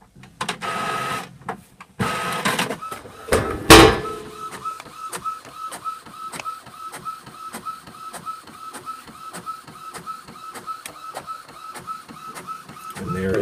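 An Epson printer runs a job sent over Wi-Fi Direct, starting with a few clunks and whirs, then settling into a rapid, regular mechanical ticking of the print head passing back and forth, close and clear.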